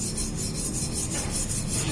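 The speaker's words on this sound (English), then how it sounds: "Started filing this." A metal file rasps at rust on a Royal Enfield motorcycle part, a harsh, continuous scraping close up with quick repeated strokes.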